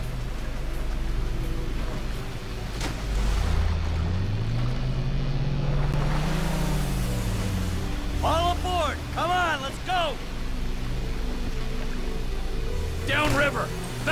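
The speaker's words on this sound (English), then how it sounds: "We got boats on us!" Boat engines drone in Grand Theft Auto V, a loud continuous motor hum with one engine pitch sweeping up and down as a boat passes, under shouting voices and bursts of sharp chirping sounds.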